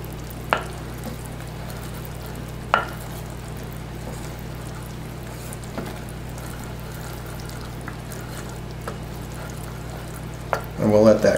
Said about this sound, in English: butter right in. And let it just gently melt.